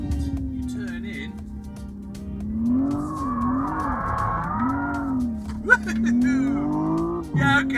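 A Hyundai Ioniq 6 N drives hard with rear-wheel-drive torque bias, its synthetic engine note droning and rising and falling through the cornering, a tire squeal rising midway, with talking over it.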